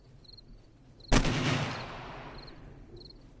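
A single loud AK rifle shot rings out in the survival game 7 Days to Die, sharp and close, with a decaying echo tail that fades over about a second amid faint background game ambience.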